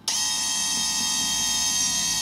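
An FPV miniquad, a Vortex 250, gives a loud sustained electronic beep right at power-up, starting abruptly and holding steady without a break.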